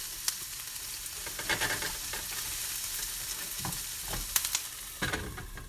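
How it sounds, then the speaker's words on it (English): Vegetables frying and charring in a hot pan, a crackling sizzle throughout at moderate level with occasional stirring scrapes and pops, close and without talk. "Back to the ASMR of veggie cooking. We've got a nice little char going on."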